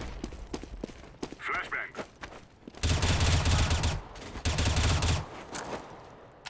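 Rifle tap shots in CS:GO ring out in two sustained, loud bursts of rapid gunfire, preceded by scattered quieter shots and footsteps, with a voice talking intermittently.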